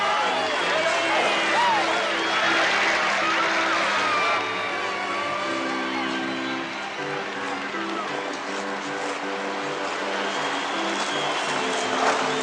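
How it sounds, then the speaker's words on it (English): Broad, sustained applause fills a large echoing space, with a murmuring crowd and a voice talking over it. "They're getting a good round of applause from their own booster club"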